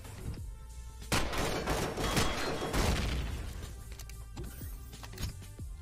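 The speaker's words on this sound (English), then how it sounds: "Still getting gunshots in this earphone, rather than right in front of me when it's in front of me." Gunfire in the space survival game Empyrion Galactic Survival, several sharp loud shots in irregular bursts with booming tails, spaced over a few seconds among quieter mechanical game sounds.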